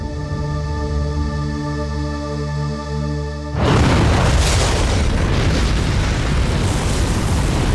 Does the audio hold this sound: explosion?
yes